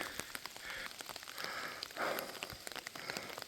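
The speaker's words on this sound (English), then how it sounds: "And it's raining." Steady rain pattering on a surface while hiking halfway up a hill, with scattered nearby drop impacts and a continuous wash throughout, no voices.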